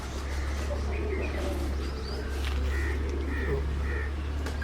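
Birds call at a Pakistan homestead, with pigeons cooing and several short chirps and caws spread over a steady low hum and background noise, moderately near.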